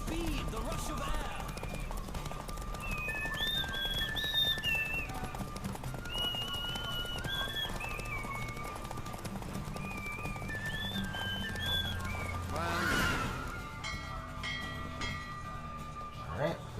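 A horse gallops through a race in The Witcher 3 video game, with steady, rapid hoofbeats going on throughout, a brief whinny near the end, and game characters speaking over the racing.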